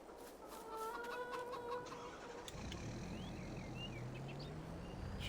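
Chickens clucking on a farm in Farming Simulator 22, several short, repeated clucks and calls at moderate distance over a low engine rumble that grows heavier partway through.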